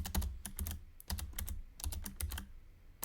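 Rapid typing on a new computer keyboard: close, crisp key clacks in quick irregular bursts with short pauses between runs, alone and without any talking.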